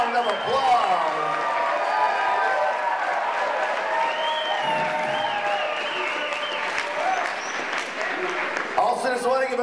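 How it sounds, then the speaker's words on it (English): Audience applause at a poetry slam finals night fills the space for the whole stretch, a loud, dense wash of clapping with cheering and whoops rising over it and crowd voices mixed in. "Give them a big round of applause."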